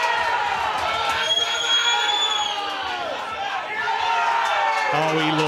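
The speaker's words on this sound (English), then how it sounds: "Listen to the crowd if he gets on the 8 here." Spectators at an international £60k race-to-30 pool money match between Ian Ali and Declan Brennan, a dense roar of crowd noise and cheering that swells and holds steady throughout, with some talk mixed in.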